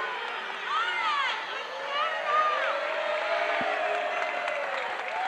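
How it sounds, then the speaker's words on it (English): Barren County fans in a gym at a high school basketball game against the Wildcats, a crowd booing and shouting with rising and falling howls, loud and sustained throughout, with voices mixed in. "Barren County booing"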